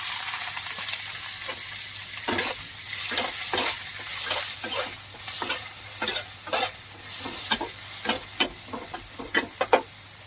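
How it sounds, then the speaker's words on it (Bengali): Chopped onions fry in oil with whole garam masala and cumin for chicken biryani, giving a loud, steady sizzle broken by repeated scraping stirs, with no voices. "পেঁয়াজ কুচি দিলাম।"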